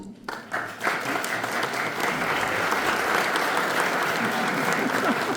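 Summit audience answering a vote with applause, a few scattered claps at first that quickly swell into steady, full crowd clapping, with some voices underneath.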